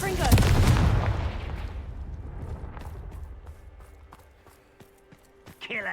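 Confringo spell blast in Hogwarts Legacy, a loud booming burst that rumbles and fades over a few seconds, followed by faint scattered clicks and small pops.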